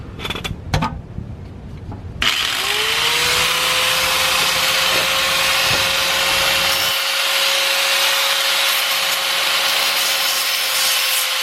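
Power saw cutting through the exhaust front pipe of a 2018 tenth-generation Honda Accord: after a couple of brief clanks, a loud, continuous high-pitched grinding whine runs steadily to the end, with no talk.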